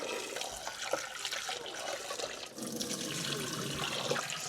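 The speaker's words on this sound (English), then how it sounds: "let's turn the cold water on" Cold water runs steadily from a kitchen tap over a pot of just-cooked eggs, a continuous close splashing stream with small level dips, no voices.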